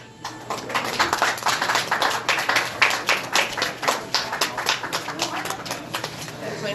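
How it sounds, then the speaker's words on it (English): A dinner crowd at an awards announcement claps for a poet coming up to speak, a full round of many hands with a rapid, pulsing rhythm that keeps going throughout at a fairly strong level. "So give a warm round of applause for Chanel J. Wilson."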